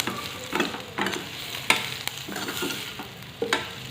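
Gujarati patra tossed in a hot tempering, with scraping spoon strokes against the pan at a regular pace over a soft continuous sizzle, close and without speech.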